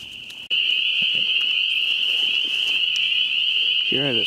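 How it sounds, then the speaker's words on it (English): At night in western Washtenaw, Michigan, a dense chorus of spring peepers and tree frogs forms a steady, shrill, unbroken trill, and a voice speaks briefly near the end. "just getting a soundscape of the frogs calling here. Yeah, obviously a bunch of spring peepers and some tree frogs in there."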